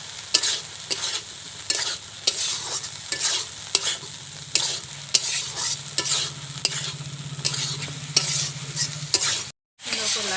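Fried potatoes and peas stirred in a sizzling pan of released oil, with steady loud frying hiss broken by repeated scraping strokes of a spoon, close and continuous, a brief dropout near the end.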